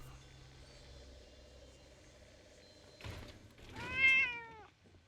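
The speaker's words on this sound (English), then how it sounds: "Oh, it's just a cat." A cat meows in the video game Fallout, one rising, drawn-out call standing out after a short thump over a low ambient drone.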